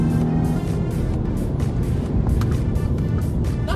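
A 2016 Dodge Dart's engine pulls at full throttle in eco mode, a steady loud drone heard from inside the cabin, alone without talk.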